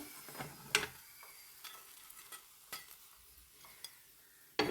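Bitter gourd slices frying in hot oil, a soft steady sizzle broken by scattered clicks and scrapes of a spoon stirring the pan, with a sharper clatter near the end.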